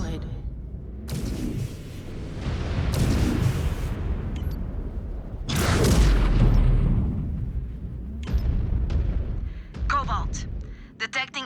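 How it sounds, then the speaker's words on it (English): Artillery cannons firing in MechWarrior 5: Clans, several heavy booming bursts rolling in and out over the stretch, loud and near, with radio voices talking over and between the blasts. "detecting active artillery cannons firing on your position"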